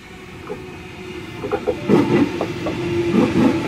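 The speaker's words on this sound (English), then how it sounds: "we have a MacArthur service arriving on platform number 2" A Sydney suburban train pulls into platform 2 at Macquarie Fields station, a steady rolling rumble with rhythmic wheel clicks over rail joints and a faint hiss, growing gradually louder as it approaches.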